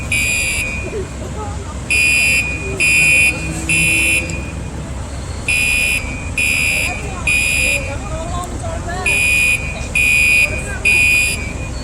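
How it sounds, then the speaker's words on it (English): A fire alarm buzzes in repeated harsh pulses, about a second each with short gaps, over outdoor traffic noise and distant voices. "Looks like a fire alarm."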